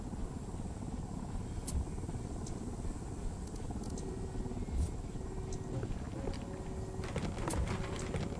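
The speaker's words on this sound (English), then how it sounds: "Helicopter, get down." A helicopter in Ghost Recon Wildlands thrums as a continuous rumbling rotor drone with wind noise, steady throughout, with a few faint sharp clicks on top.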